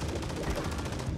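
Rapid SMG gunfire from a new submachine gun in Call of Duty: Modern Warfare III, Season 3, a dense continuous burst of shots filling the whole moment, loud and close with no voices over it.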